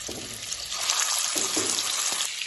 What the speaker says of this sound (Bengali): এবারটা আমি আস্তে আস্তে আমি মাছগুলো ভেজে নেবো।